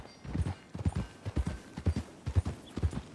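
Horse hooves clip-clop at a steady walking pace in the Western video game Red Dead Redemption 2, paired thuds repeating evenly about twice a second, close and clear, with a faint voice in the background.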